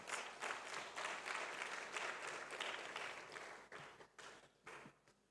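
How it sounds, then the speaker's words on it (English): Audience applause at a university anniversary colloquium, steady dense clapping from a moderate distance that thins into a few scattered claps and fades out near the end. "Can we give him a round of applause?"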